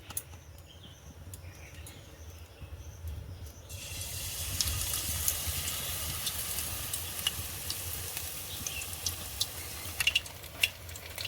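Battered chicken satay dropped into oil and frying over a low flame, a quiet background hum giving way to a steady bright sizzle with small pops and crackles that builds and carries on.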